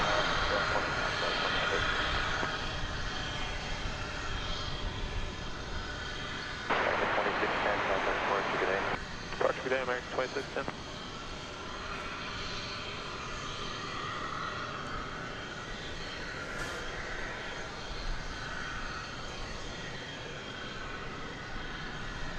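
An Airbus A319 airliner arriving from Sioux Falls at DFW Airport, a faint distant engine roar drifting under steady outdoor background noise with a brief louder passage midway.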